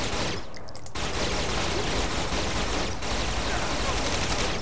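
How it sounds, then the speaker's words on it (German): Rapid submachine gun fire in the video game Saints Row: The Third, a dense continuous burst of shots close and loud, with a short pause near the start and another near the three-second mark. "Was für eine Waffe ballerst denn du da?"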